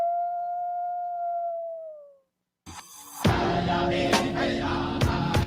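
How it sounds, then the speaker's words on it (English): Wolves from Minnesota howl in a radio announcement, one long smooth rising-and-falling howl that fades out, followed after a short gap by crowd-like broadcast sound. "Let's live and let howl."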